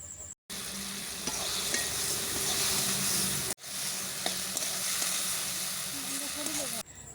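Spices sizzling in a pan with chopped tomato and salt for a prawn and drumstick curry, a loud continuous fry hiss with stirring scrapes, briefly cut off twice.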